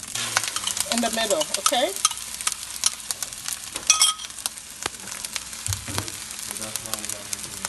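An egg sizzles steadily in a hot pan of leftover fried rice, with the scrape of stirring throughout. It is close and fairly loud, and a person speaks briefly over it.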